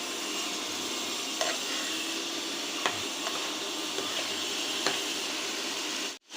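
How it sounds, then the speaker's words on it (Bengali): Pointed gourd frying in a pan makes a continuous soft hiss, broken by occasional light clicks and spatters; no one speaks. "আর এখানে পটল ভাজি করে নিচ্ছি।"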